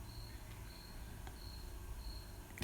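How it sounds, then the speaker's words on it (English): Crickets chirp right outside a window in faint, evenly spaced high-pitched trills over quiet background hum, with a brief knock just before the end. "there are crickets right outside my window"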